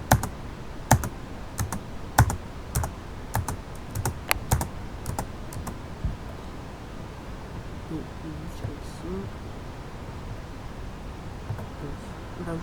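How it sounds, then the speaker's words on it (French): Clicks from a computer keyboard, sharp close taps in an irregular cluster during the first half, then fainter rustling as a voice talks quietly. "Donc, j'appuie sur espace."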